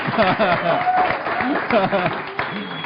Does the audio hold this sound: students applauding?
yes